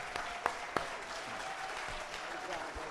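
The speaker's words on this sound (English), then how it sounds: "Let's give these brothers a big round of applause for this conversation." Audience applause at a church discussion event, a steady wash of clapping from a crowd with a few sharper individual claps near the start, while a voice speaks faintly underneath.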